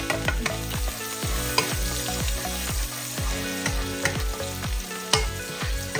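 Garlic sautés in a hot pan for a beef tail dish, a loud close sizzle punctuated by a quick run of rhythmic spatula scrapes and knocks, with no one speaking.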